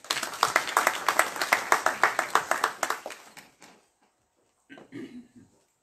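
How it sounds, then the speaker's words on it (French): An audience claps warmly at a law lecture, quick bright clapping for about three seconds that fades out, followed by a brief low murmur of voices. "Et je vous prie de les applaudir chaleureusement."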